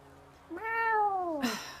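A person gives a single drawn-out mewing call imitating a cat, rising then falling in pitch, close and clear, ending in a breathy burst.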